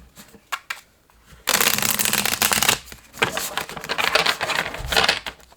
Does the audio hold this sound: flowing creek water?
no